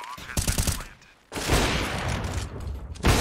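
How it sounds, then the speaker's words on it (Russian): Gunfire in a Counter-Strike match on the Anubis map arrives as a quick volley of sharp shots followed by a sustained noisy burst, with more shots at the end. "Выстрел. Выстрел еще один."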